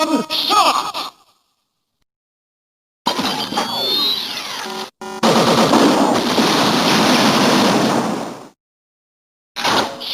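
A Kamen Rider Attache Shotgun toy plays electronic effects: spoken announcer lines, then bursts of rapid, loud synthetic gunfire and blasts separated by short silences.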